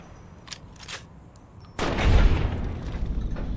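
A hunting shotgun fired in Fallout: New Vegas, one loud, close blast that cuts in sharply after a quieter stretch of faint taps, then rings out in a heavy, rumbling tail.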